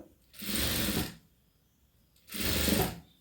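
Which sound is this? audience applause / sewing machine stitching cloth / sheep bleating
sewing machine stitching cloth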